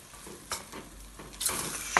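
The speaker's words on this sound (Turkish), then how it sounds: "etlerimi bir yağ döktüm. Yağda iyice kavuracağım arkadaşlar." Meat frying in oil in a pan, a hissing sizzle broken by a few sharp stirring scrapes, swelling louder toward the end of the short stretch.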